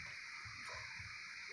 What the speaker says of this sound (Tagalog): Lagay pala ako ng konting tubig lang siya guys para maluto siya.